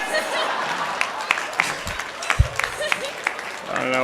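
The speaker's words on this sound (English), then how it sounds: "I don't know why you guys are cheering at that" A live crowd at a political comedy speech applauds and cheers. The clapping is dense and steady, with a few sharper claps and scattered voices in the room, and a speaker's voice joins briefly near the end.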